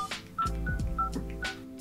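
Telephone keypad tones as a number is dialed, several short steady beeps in an uneven sequence, close and clear with no talk.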